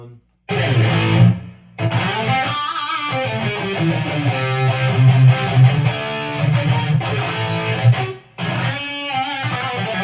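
Distorted electric guitar through a Nux Trident on its 5150 head setting with delay and reverb: thick, saturated riffs played in bursts with brief silent gaps, loud and close.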